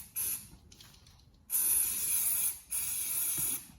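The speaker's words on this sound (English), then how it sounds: "spray a bit of carb spray in there" Carburettor cleaner spray from an aerosol can hisses in three bursts into a Yamaha SR125 motorcycle, one short and two longer, each a sharp, close hiss separated by brief pauses.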